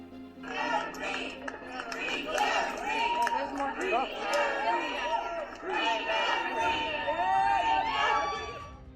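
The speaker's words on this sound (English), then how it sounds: "Those are crowds lining the streets of the courthouse. They're chanting and cheering for the release of a woman named Karen Reed" Crowds lining the streets outside a courthouse chant and cheer in rhythmic, loud waves, with many voices shouting together at close range and a pause between bursts.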